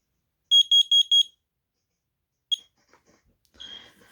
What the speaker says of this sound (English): the next one we got is the CanSteel DP2. The last of my kit of carbon monoxide alarms. Test it.